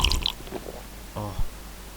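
A character drinks water in the survival video game WarZ (Infestation: Survivor Stories), with short gulping, swallowing sounds close up over a steady game ambience hum.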